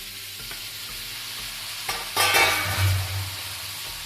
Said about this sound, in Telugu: బాగా కలుపుకోవాలి ఒక ఐదు నిమిషాలు ఇలా కలుపుకున్నాక ఒక ఐదు నిమిషాలు ఇలా కలుపుకోవాలి